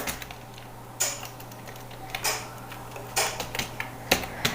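Someone types on a computer keyboard while filling in address fields in a Microsoft Office mail merge, with quiet, irregular key clicks in short bursts and single taps over faint room hum, no voices.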